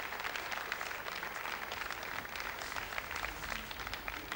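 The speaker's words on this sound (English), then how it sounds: "And you hear the applause, everybody shaking hands, everybody happy." Applause fills the launch control room of an Ariane 5 rocket after N-Sat 110 satellite separation, faint and distant, a continuous crackle of many hands with almost no talk.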